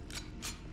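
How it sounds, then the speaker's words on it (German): Weapon reloading in Halo: Combat Evolved, heard as two quick metallic clicks about a third of a second apart, fairly faint over a low steady game rumble with no talking. "Lass mich mal kurz nachladen."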